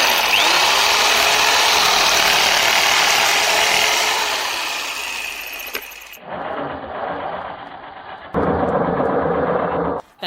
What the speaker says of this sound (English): We cut it, guys, using a jigsaw.